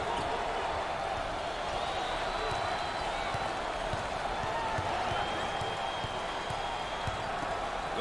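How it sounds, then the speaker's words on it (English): A basketball arena crowd at an NCAA March Madness Sweet 16 game between Northwestern and TCU roars and cheers steadily, with basketball bounces and scattered shoe squeaks underneath. "there's all kinds of people standing and cheering and going wacky"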